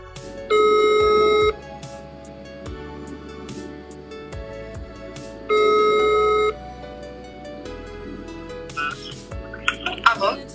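Phone ringback tone while calling someone, two long steady beeps several seconds apart, heard over background voices and rustling, with a brief voice near the end.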